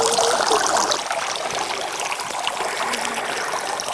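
Pond water trickles and gurgles steadily into an opened plastic bag of fish fry outdoors, a continuous close liquid dribble with no talking.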